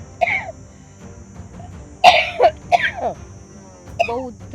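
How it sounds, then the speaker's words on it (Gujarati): Several harsh, raspy coughs in short bursts, close by and loud, with some throaty vocal sounds in between, in a domestic family scene. "બહુ ઉધરસ થઈ ગઈ છે."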